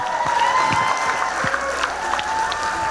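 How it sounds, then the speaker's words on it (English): Award show nominees cheering on stage with a virtual audience, a lively mix of whoops, claps and crowd voices at moderate loudness, steady for a few seconds. "All the nominees cheer on stage and in the virtual audience on screen."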